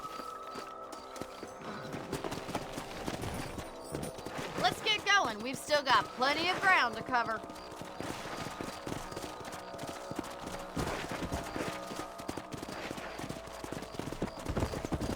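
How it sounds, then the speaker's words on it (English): Horses' hooves clip-clop steadily over ground in the Western video game Red Dead Redemption, a continuous trotting patter with a whinny midway and game music underneath, while someone talks over it. "Let's get back on the horses and see what else is going on."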